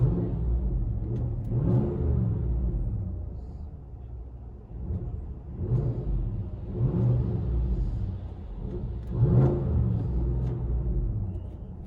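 Deep exhaust rumble of a Chevy/GMC 6.2L V8 with a modified exhaust, heard from inside the cabin, low droning tone rising and falling in several swells as the engine revs, no talking.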